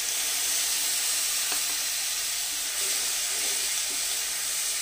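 Spice paste hitting fried reddened onions in hot oil for an okra masala, giving a steady loud sizzle and hiss with a few faint clinks of stirring.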